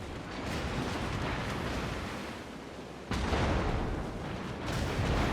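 Naval artillery shells ricochet off the battleship Georgia in World of Warships, a steady roar of heavy gunfire with a sharp louder burst of impacts midway and no voices.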